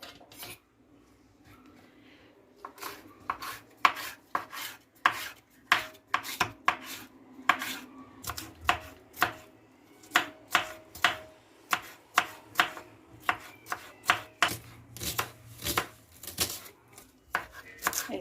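A knife chops vegetables rapidly on a board after a quiet start, sharp regular taps that continue steadily, close and clear with no voices.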